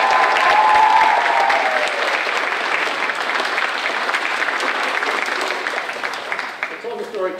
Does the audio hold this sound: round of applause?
yes